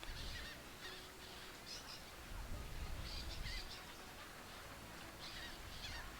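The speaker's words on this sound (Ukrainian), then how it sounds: "Так, і пташки кричать." Birds call and honk in short bursts, goose-like cries repeating at intervals over steady outdoor background noise, moderately distant.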